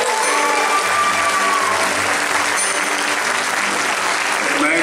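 Dense, sustained applause from a large audience for an orchestra at a concert, steady and loud throughout with a faint whistle or two rising above the clapping.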